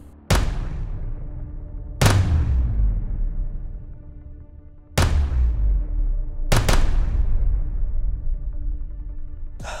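Pistol shots from an Atlas Apollo handgun fired at 20 yards: four loud, sharp reports spaced about two seconds apart, the last a quick double, each leaving a long echoing tail outdoors, with no talking.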